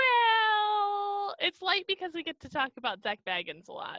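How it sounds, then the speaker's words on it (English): A cat lets out one long, clear, tonal meow up close, then a person starts talking. "That was my cat."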